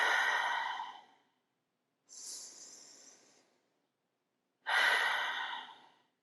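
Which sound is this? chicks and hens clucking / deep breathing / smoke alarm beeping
deep breathing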